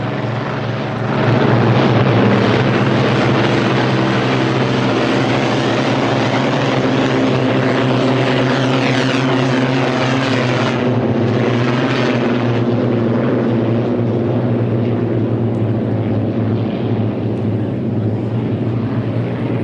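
A loud, sustained roar of a vintage hydroplane race boat's piston engine running steadily near by at a Seattle exhibition, droning without pause throughout.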